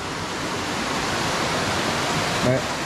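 Steady, loud broadband rush of a strong, fast-flowing river, continuous and close, with a brief voice near the end.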